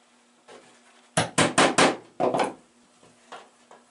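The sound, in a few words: hammering with a 16 ounce hammer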